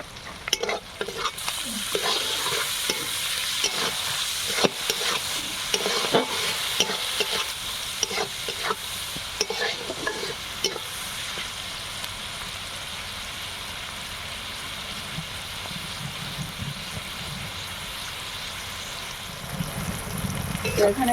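Onion and tomato fry with salt in a pan, a steady sizzle with the scrape of stirring that eases a little toward the end.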